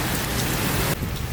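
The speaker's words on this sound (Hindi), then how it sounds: "भाई आज की बारिश इतनी ज़्यादा खतरनाक हुई है कि पूरे घर में पानी आ गया है।" Heavy rain pounding down during a fierce windstorm at a home, a dense, loud, continuous roar of rainfall up close that eases slightly near the end, with no voices.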